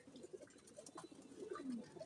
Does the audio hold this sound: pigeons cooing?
yes